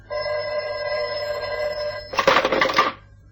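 An old telephone bell rings in one long steady burst, followed by a short rattling clatter as the handset is picked up, close by and alone.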